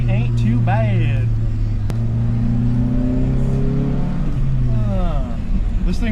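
SR20-powered Infiniti G20 engine idling and revving with a replaced mass airflow sensor, a steady close engine drone with rising and falling rev sweeps, heard under someone talking throughout.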